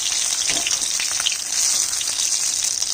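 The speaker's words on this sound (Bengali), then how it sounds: "এইভাবে সব মাছগুলো ভেজে নিচ্ছি।" Fish fries in hot oil in a pan, a dense, even crackling sizzle heard up close and loud, with slight bursts of spatter and no voices.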